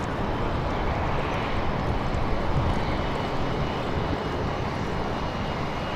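A Jetstar Airbus A320 approaches Sydney Airport, its engines giving a continuous broadband rumble and hiss that stays steady and moderately loud for the whole stretch, with no talking.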